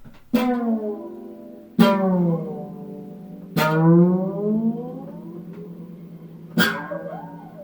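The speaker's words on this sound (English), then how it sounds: "fluidic sounds produced by applying a metal rod to the string, plucking, and then sliding the rod" Four plucked harp notes, each ringing on with a sliding, bending pitch as a metal rod glides along the string; spaced apart, close and alone.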